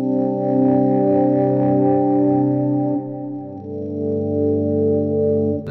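A sustained, distorted guitar chord swells through an Electro-Harmonix POG2 swell effect and hums thickly, then shifts to a new chord that rings on steadily.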